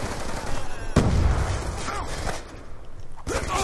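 Gunfire in a knife-focused first-person shooter match, with a sharp loud shot and bursts of firing over busy game ambience, a few further shots trailing off.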